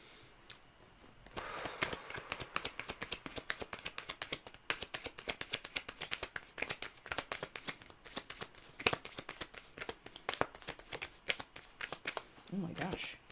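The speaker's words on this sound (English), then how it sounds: "Oh, am I shuffling this deck upside down?" Tarot cards being shuffled close up, a long run of quick, crisp riffling taps in an uneven rhythm, fairly quiet, with a brief voice near the end.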